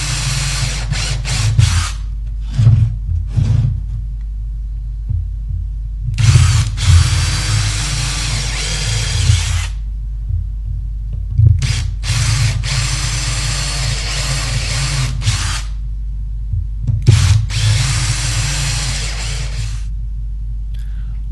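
Power drill driving screws into wooden boards while building a scuba tank holder, in several bursts of whirring with short pauses and ratcheting clicks between them, close and loud, with no talking.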